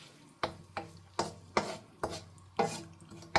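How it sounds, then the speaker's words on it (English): Onions and bay leaves fry over a raised flame for Nigerian gizdodo, about eight sharp scraping stirs in an uneven rhythm over a faint sizzle, close but fairly quiet, no talking. "I'm just going to fry my onions"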